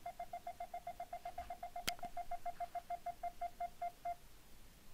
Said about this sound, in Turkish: Cep telefonu arıyor.